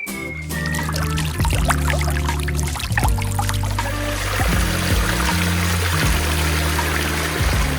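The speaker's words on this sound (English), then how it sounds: "This is the front yard water feature." Water splashes and trickles continuously from a recirculating front-yard fountain at a pond contractor's house, a close, steady pouring stream with shifting gurgles and no talking.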